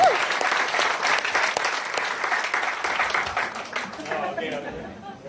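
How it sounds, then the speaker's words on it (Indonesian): An audience at a business talk applauds loudly and steadily, the clapping near and full before tapering off as chatter and voices rise toward the end. "give yourself a big applause"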